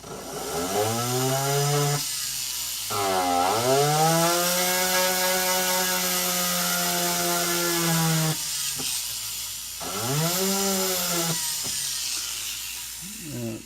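A rotary burr cuts metal for a jewelry stone setting head, a close, loud whining tone that rises and falls in pitch as the tool bogs and frees, in several sustained passes with brief breaks.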